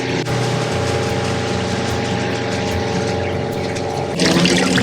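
A boat motor hums steadily at close range with a low droning tone, growing a bit louder and hissier near the end.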